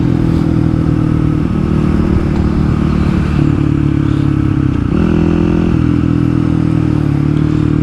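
A Kawasaki KLX300 dirt bike engine droning loud and steady while riding toward a quarry, with gear-shift changes in pitch and rattling clatter from the bike over rough ground.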